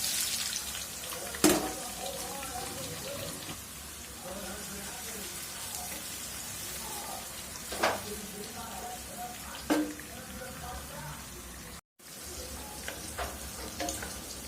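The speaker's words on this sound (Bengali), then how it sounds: "আমি প্যান বসা দিলাম, আমি বেরেস্তাটা করে নিব আগে।" Onions fry in a pan for berista, giving a continuous sizzle with occasional scraping and stirring knocks throughout and a brief dropout near the end.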